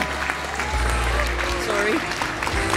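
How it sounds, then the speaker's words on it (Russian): Applause at a film festival award ceremony, a crowd clapping steadily throughout while a voice talks over it and low hum sits underneath. "Под громкие аплодисменты, дорогие друзья."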